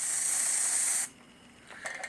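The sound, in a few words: spraying protective coating in a hog barn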